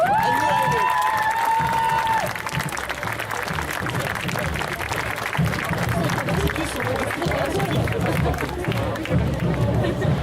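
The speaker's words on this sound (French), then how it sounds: "Je vous laisse encore l'applaudir bien fort." A crowd at a cosplay contest at Festival Yggdrasil 2019 claps loudly and continuously, with cheers and chatter mixed in and a voice shouting over the start.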